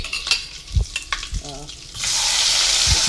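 After some clattering and brief handling sounds, food starts frying loudly in a pan, a steady hiss with occasional stirring knocks.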